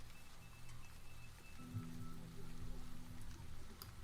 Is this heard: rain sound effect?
yes